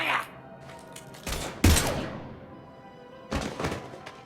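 Gunfire in the Mass Effect 3 video game: a few heavy, booming shots spread out over several seconds, each with a rumbling tail, against a low background of game sound.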